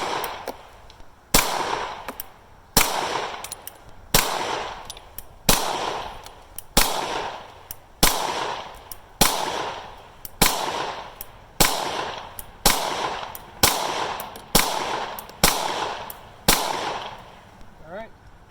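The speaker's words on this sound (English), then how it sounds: "standard 115 grain full metal jacket out of the P89" Ruger P89 pistol firing 115 grain 9mm full metal jacket rounds in a steady string of about fifteen sharp, loud reports at roughly one-second intervals, each followed by a short decaying echo.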